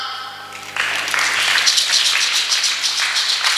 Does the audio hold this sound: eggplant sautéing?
no